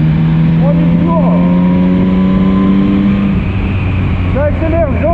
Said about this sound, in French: ça accélère gentiment, c'est tout doux, c'est propre